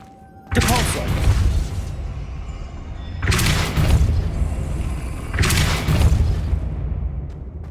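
The Depulso spell in Hogwarts Legacy fires three times, each a loud close whooshing boom with a lingering rumble, spaced a few seconds apart.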